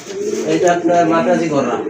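A Madrasi pigeon coos in throaty, rolling phrases close to the listener for a couple of seconds, with other voices talking faintly underneath.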